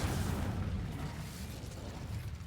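The Incendio fire spell in Hogwarts Legacy bursts with a muffled fiery whoosh and low rumble, a quiet blast that decays and then swells again briefly.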